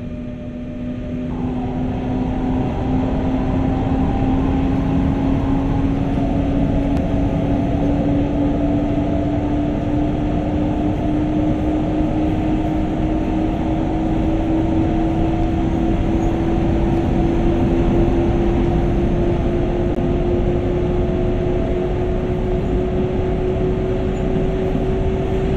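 Steady, loud ride inside a double-deck coach hauled by a BR146.2 electric locomotive in Train Sim World, with continuous rolling rumble and a slowly rising electric motor whine throughout.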